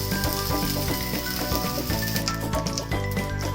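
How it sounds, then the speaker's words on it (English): Steady, loud sizzling of mutton galouti kebabs frying in hot ghee in a pan, a dense crackling hiss that continues without pause. "now I'll just put it into the hot pan with heated ghee."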